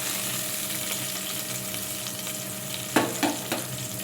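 Spices fry in a clay pot for chicken curry, a steady close sizzle that fills the whole stretch, joined near the end by three quick stirring scrapes, with no voices.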